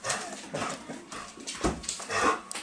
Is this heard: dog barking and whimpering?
yes